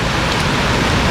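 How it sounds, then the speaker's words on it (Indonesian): Heavy rain pours onto a tent at a campsite in Ujung Kulon National Park, a dense, steady hiss that fills the whole moment with no voices over it. "sampai sekarang masih terus diguyur hujan"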